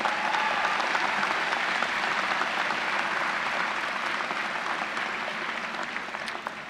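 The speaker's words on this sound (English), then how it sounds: "Let's give them a round of applause." A large commencement crowd in a university ceremony hall gives a sustained round of applause, even and continuous clapping that slowly tapers toward the end, heard on its own without speech.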